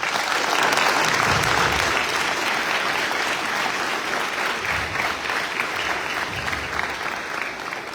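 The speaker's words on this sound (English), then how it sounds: "Stop and clap it up for the family." An audience claps together in sustained, dense applause at a US Navy retirement ceremony, staying loud for several seconds and easing slightly toward the end.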